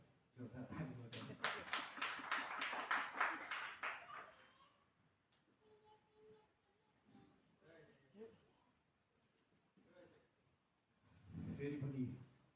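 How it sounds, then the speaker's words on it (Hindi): Audience at a Christian church gathering claps in a loud, rhythmic burst, followed by a stretch of speech and then a second swell of applause near the end. "स्वागत गर्दैछौँ है जोरदार ताली बजाएर"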